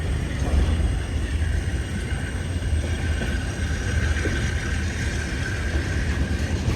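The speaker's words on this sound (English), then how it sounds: "Yes, notching up EMDs. It's the best sound of railroading." EMD diesel locomotives hauling a freight train notch up, giving a steady, loud, sustained engine drone with rumbling low end that carries on without a break.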